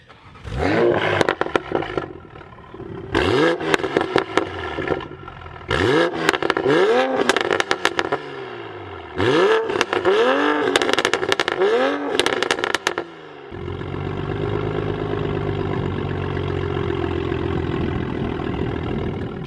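A car with a full turbo-back exhaust and downpipe roars through several sharp revs in quick bursts, each climbing and dropping, then settles into a loud, rumbling idle.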